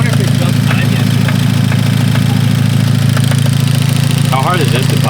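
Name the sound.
Hyundai Genesis Coupe engine idling with abnormal noises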